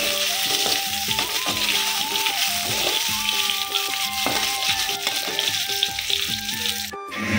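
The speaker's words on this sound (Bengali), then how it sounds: "এবার আলুটাকে ভালো করে ভেজে নেব।" Potatoes fry in hot oil, giving a steady crackling sizzle that sits beneath a melodic music track playing throughout, with no voices.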